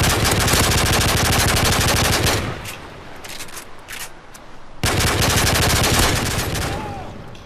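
Weapons firing in the video game Modern Warfare 3: loud sustained automatic bursts, then a quieter stretch of scattered shots before another long, dense volley.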